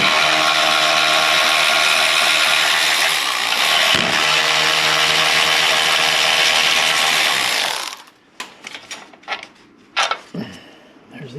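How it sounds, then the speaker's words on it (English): Bolts are removed with a 13 mm socket on the passenger side of a 2018 Chevy Cruze during intercooler work. A loud, steady mechanical whir runs for several seconds, then stops, leaving scattered close metallic clicks and clanks of the tool. "Down here on the passenger side, I'm gonna take a 13 millimeter, take off these two bolts."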